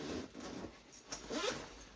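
A zipper opens the main compartment of a Tom Bihn Pilot bag in a few quick, close-up pulls of varying speed, with no voices.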